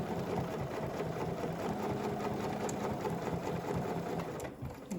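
A sewing machine stitches steadily along a fabric edge toward a sharp corner, a close, continuous fast-pulsing whir that holds constant for several seconds before easing off at the very end.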